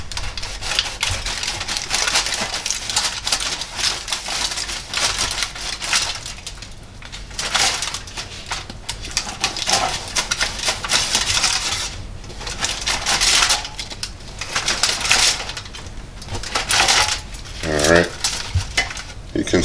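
A knife saws through the crisp crust of a baked Pillsbury French bread loaf, giving a steady, close crackling and crunching that runs in uneven strokes for about twenty seconds with no talking.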